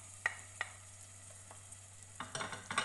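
Garlic is stirred in a hot pan, with soft sizzling under a few sharp scraping clicks of a utensil against the pan, faint and close, growing busier toward the end.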